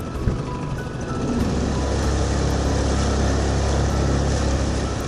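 A small outboard motor on a dinghy drones steadily at close range along a river inlet, a constant low engine hum with water noise as the boat moves along.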